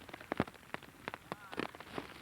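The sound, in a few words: rain falling on a beach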